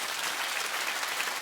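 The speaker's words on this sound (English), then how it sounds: "keep clapping" A studio audience claps in a dense, steady burst of applause that fills the room and stays even throughout.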